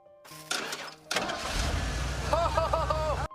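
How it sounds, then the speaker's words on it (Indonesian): A car engine cranks and catches after being repaired, settling into a steady low idle with rising mechanical noise, heard close in a quiet setting. "akhirnya mobil Mallory berhasil menyala"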